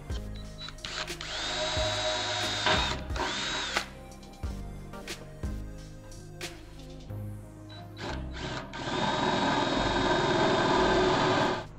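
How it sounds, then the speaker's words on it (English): Power drill boring a pilot hole in a metal kettle, whining in several bursts of varying length with pauses between, ending in a long, loud, steady run. "that you need to drill a little pilot hole to get things started."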